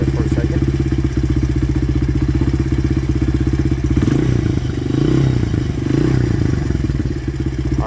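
A Honda CRF80F dirt bike engine idles steadily and close up, a fast even putter for about four seconds, then its pitch wavers and surges unevenly as the idle is adjusted after a carburetor rebuild.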